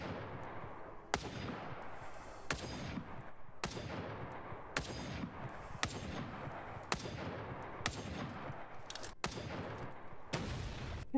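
Rapid bursts of gunfire in the video game Front, a steady run of sharp shots repeating roughly every second, loud and close, with no talk over them.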